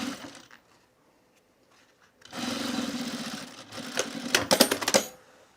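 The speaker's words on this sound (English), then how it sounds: "I'm just going to sew it right sides together through all layers." A sewing machine stitches a canvas bag through all layers in a steady close run of rapid mechanical clatter that speeds up near the end, following a quiet pause.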